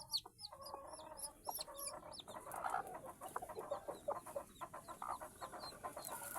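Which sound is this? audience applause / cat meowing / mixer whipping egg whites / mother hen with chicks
mother hen with chicks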